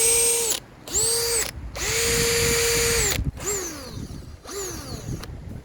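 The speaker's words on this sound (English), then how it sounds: "Alright, drill still sounds really good." A Bauer 20 volt cordless drill runs in repeated bursts, its motor whining up to speed, holding steady, then winding down between short pauses, loud and close.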